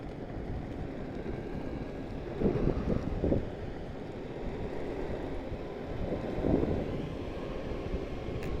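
A Maxfind Cyber Mini Pro electric short board ridden at full throttle in third gear, carried mostly as rushing wind buffeting the microphone, with a steady rough rolling rumble and a few louder gusts.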